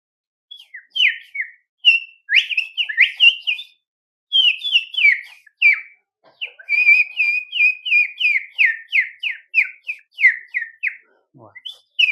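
A man whistles a lively run of sparrow-like chirps and trills, mimicking a small bird's morning call in quick bright bursts with short pauses, closing on a lower note.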